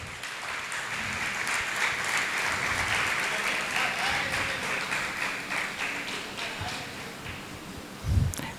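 Sustained applause from an audience at a health and diet talk fills the whole stretch, steady dense clapping with a brief louder thump near the end.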